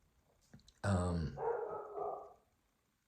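A dog barks once, then lets out a drawn-out, whining howl-like vocalization, close by against a quiet background.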